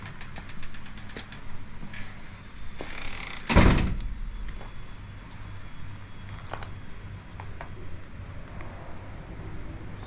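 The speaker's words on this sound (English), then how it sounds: "this is the door that lets you out to the bathtub here" A door to the bathtub area at a four-star resort in Ubud, Bali, slides open with one loud, short scraping rush near the middle, followed by a few faint clicks and a low steady background rumble.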